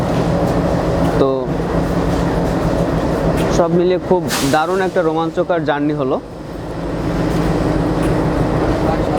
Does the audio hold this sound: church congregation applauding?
no